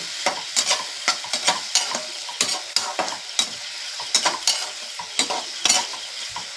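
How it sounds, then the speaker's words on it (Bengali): Potatoes and chopped tomatoes sauté in a pan, a soft sizzle broken by repeated quick stirring scrapes and clinks in an irregular rhythm, close and alone without talk. "টমেটোগুলো দিয়ে এগুলোকে কিন্তু একটু ভালো করে কষিয়ে নেব"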